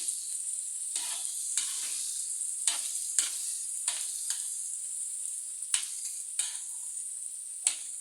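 Food sizzling steadily on a hot tava for dhaba-style paneer masala, a continuous bright frying hiss broken by occasional short scraping and stirring clicks, with no talking.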